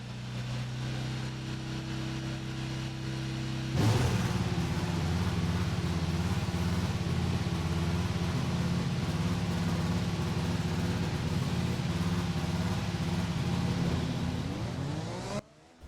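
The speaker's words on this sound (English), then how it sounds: "you just heard the Honda engine firing up inside of this Red Bull. What a sound it is." A Honda Formula One engine in a Red Bull car in the F1 2021 video game fires up with a sudden loud roar, then holds a steady, heavy engine drone that cuts off abruptly at the end.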